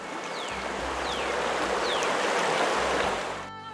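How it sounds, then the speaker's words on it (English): Deer Creek water rushes steadily over stones, a continuous close babble of flowing water that cuts off abruptly at the end. "echoing the refreshing and joyous sounds of cool, clear water"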